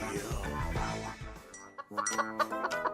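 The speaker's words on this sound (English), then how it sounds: "Chicken?" Chicken clucking in the Honkai Star Rail video game, a short run of close, loud clucks over its last second or so, after a stretch of game audio.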